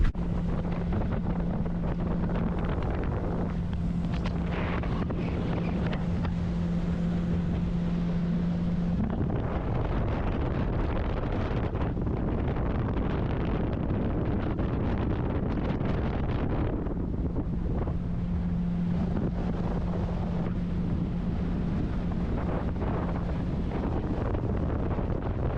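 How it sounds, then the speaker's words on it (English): A jet ski roars up a creek with heavy wind buffeting the microphone, a loud continuous engine drone that shifts in pitch as the throttle changes, mixed with water spray and no talking. "So jet ski's roaring up the creek."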